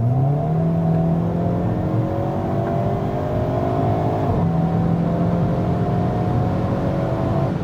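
A 2022 Hyundai Kona N pulling hard under acceleration, its engine note climbing steadily through a gear change with a brief dip before rising again, loud and steady from inside the cabin.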